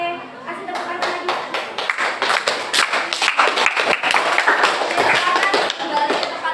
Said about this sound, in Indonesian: Oke, kasih tepuk tangan lagi